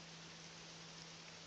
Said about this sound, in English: as we let the rain just pour and fix all the ground here